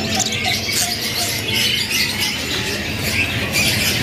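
Parakeets crowd a kiosk at Pramuka bird market, giving a loud, dense chorus of harsh squawks and chirps that continues without a break.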